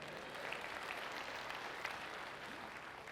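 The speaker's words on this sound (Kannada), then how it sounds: "ಒಂದು ಜೋರಾದ ಚಪ್ಪಾಳೆ ಇರಲಮ್ಮ." An audience at a live comedy show gives steady applause, an even crackle of many hands clapping at moderate level throughout.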